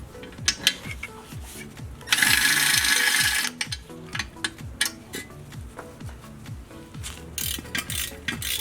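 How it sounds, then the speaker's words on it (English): A ratchet works loose a 14mm bolt on the front sway bar of a BRZ/FRS/86 sports car, with rapid repeated pawl clicks in quick bursts, a brief loud metallic rush in the middle, and close, crisp mechanical ticking throughout. "we're going to go ahead and remove this 14mm bolt"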